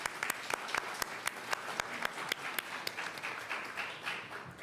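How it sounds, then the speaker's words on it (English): Applause at a New York City mayoral press briefing on COVID-19, a small group clapping with distinct sharp claps over a steady patter, close and moderately loud for several seconds. "Let's give them a round of applause and thank them."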